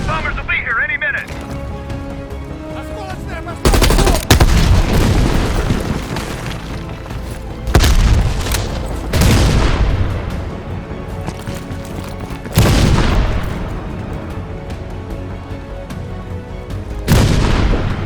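Heavy bombing-strike explosions in the video game Call of Duty Cold War, several loud deep booms landing every few seconds over a constant rumbling battle bed, with voices talking in between.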